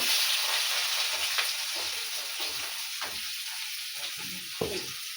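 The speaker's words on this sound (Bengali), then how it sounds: "কড়াইয়ে দিলাম গোটা গরম মশলা বা পেঁয়াজটা দিব" Whole garam masala fries in a wok over a wood-fired clay stove, giving a close, steady sizzle broken by light scraping and stirring knocks.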